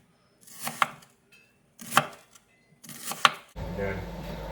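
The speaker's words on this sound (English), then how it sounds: "we're doing it julienne, which is just thin strips" Knife cutting vegetables for chicken soup into thin julienne strips on a board, three distinct bursts of brisk close chopping strokes separated by short pauses, then a low steady background hum.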